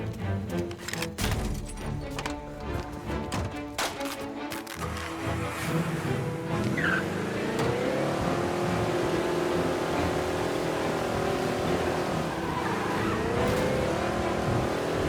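A car revs hard and accelerates with tyres squealing in the video game Mafia Definitive Edition during a police chase. Sharp knocks come first, then a continuous engine note that rises and falls, loud and close, with no talk.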